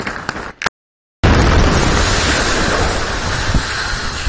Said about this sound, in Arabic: في انفجار، يبدو ان في صاروخ.